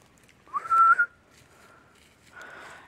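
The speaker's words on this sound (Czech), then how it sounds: "Teď jsem zapískal na mamku." A person whistles a short, clear rising-then-steady call to someone outdoors while mushroom picking in a forest, then a fainter, longer whistle follows after a pause; no talk.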